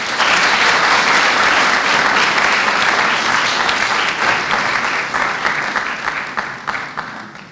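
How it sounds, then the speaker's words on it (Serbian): Sustained applause from a large audience at a school anniversary ceremony in an assembly hall, steady and loud from start to finish, fading slightly toward the end. "Za sve njih molim jedan veliki aplauz."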